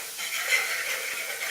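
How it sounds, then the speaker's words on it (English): Garlic and chili flakes sizzle steadily in a pan, a continuous close hiss of frying with no pauses or voices. "after you have let the garlic sizzle for about 2 minutes"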